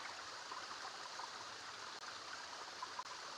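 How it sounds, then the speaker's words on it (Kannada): Cold stream water flows at a natural waterfall as a soft, steady rushing at moderate distance, continuous and unbroken, with no voices. "ಇವಾಗ ತಾನೇ ನೀರು ಹರಿತಾನೇ ಇದೆ"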